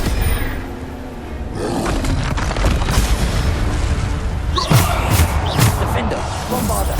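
Spell explosions from Bombarda casts in the video game Hogwarts Legacy, with repeated booming blasts and roaring bursts over constant battle noise, and a few sharper hits near the end.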